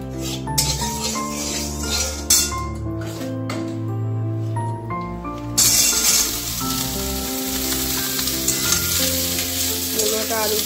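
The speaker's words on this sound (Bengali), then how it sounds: "আর অল্প একটু তেল দিয়ে এবার মূলোটা আর আলুটা একটু ভেজে নেব" Radish and potato fry in a little oil on a home gas stove, a steady close sizzle running the whole time with stirring scrapes, under continuous background music or a voice that grows brighter halfway through.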